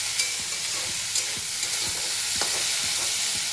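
Vegetarian food sizzling and frying in a pan while being stirred, with a steady broadband hiss and scattered clicks and scrapes of the utensil against the pan close by, no talking.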